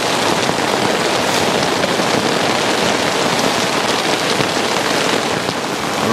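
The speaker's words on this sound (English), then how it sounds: "It's raining and it's pretty biblical." Heavy, biblical-strength rain pours down steadily, a dense, loud, unbroken hiss of drops drumming on surfaces close by throughout, with no voices over it.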